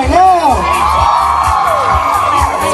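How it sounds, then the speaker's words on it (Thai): A concert audience at an FM One Gift Fair show screams and cheers continuously, a loud, dense wall of high-pitched shrieks and whoops, close and sustained throughout. "กรี๊ดให้ตัวเองหน่อยเร็ว"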